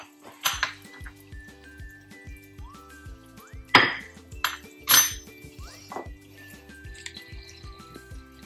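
A spoon stirring a pot of tomato rasam on the stove, with repeated metallic clinks and scrapes against the pot over a low steady hum, several sharp knocks standing out.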